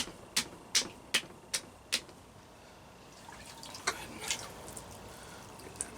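Water drips onto a 5-pound ball of freshly wedged clay centered on a pottery wheel bat. About five evenly spaced, sharp drips sound close, followed by quieter, scattered wet splashes over a soft background hiss.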